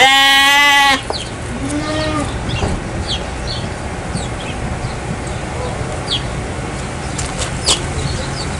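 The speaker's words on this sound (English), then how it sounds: "sheep." A sheep gives one loud, close, wavering bleat at the start, followed by quieter farmyard-style background sounds with faint scattered calls.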